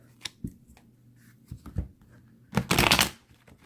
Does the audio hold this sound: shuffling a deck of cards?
yes